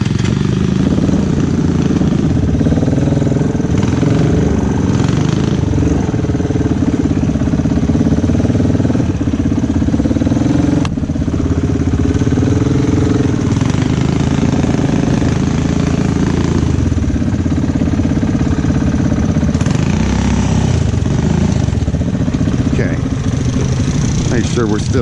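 A 300 four-wheeler's warm engine idles high and steady in the mud, close and loud throughout, with a mechanical clatter and someone talking over it at times.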